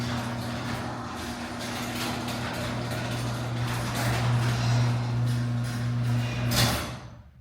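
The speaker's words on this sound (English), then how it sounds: "So, shut the gate" A metal gate rolls shut over a steady low engine or motor hum, a broad sliding rumble building toward a louder clank near the end before fading out.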